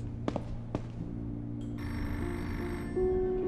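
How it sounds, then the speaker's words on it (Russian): Telephone ringing inside an apartment in the video game Know by Heart: a couple of soft thuds at the start, then a steady electronic ring tone rising in the background and growing louder toward the end. "Телефон?"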